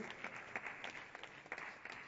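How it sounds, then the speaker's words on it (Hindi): An audience claps through a literary recitation tribute to Acharya Janaki Vallabh Shastri, a moderate, somewhat scattered patter of hands with individual claps poking out, heard from a little distance at fairly low level. "तालियां बज रही हैं"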